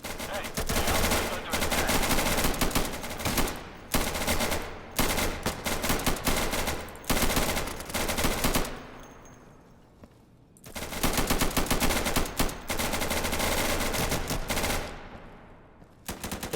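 Sustained bursts of automatic gunfire from bots in the game Insurgency, loud rapid volleys broken by brief pauses and a quieter lull midway before the shooting resumes at full intensity.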